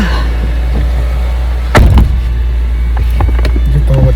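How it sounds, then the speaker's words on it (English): A car door slams once with a short, sharp thud that stands out against a loud, constant low rumble, followed by faint small clicks and knocks. "Each time I close the car door"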